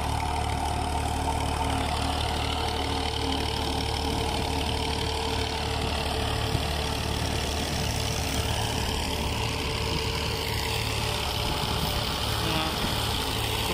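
An old 1995 Fiat 480 and a 1984 Massey Ferguson 240 tractor, fitted with old silencers, idling outdoors near a cultivator, a steady low diesel rumble with a faint knocking beat, constant and unbroken across the span.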